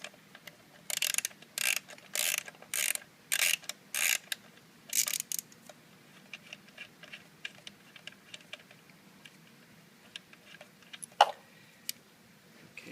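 Ratchet loosening the spark plug coil screw on a 2008 Jeep Patriot: rapid bursts of bright clicking pawl sounds in short rhythmic runs, close and fairly loud, then sparser faint ticks and one sharp click, with no talking.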